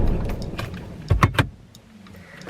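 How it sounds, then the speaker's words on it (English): A car is switched off at night: a few sharp clicks close by, then the engine's low hum drops away, leaving near quiet. "Turn the car off."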